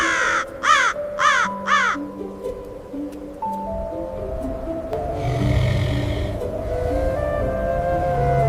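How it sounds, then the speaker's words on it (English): A common raven in the frozen Arctic tundra gives three loud, close, harsh croaks in quick succession, followed by a lower rumbling background and a faint distant call. "issuing a deep, echoing, guttural croak"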